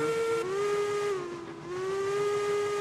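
A deep, bass-heavy steam locomotive whistle from Railroads Online holds one continuous, loud blast for about three seconds, its pitch sagging briefly midway before steadying again.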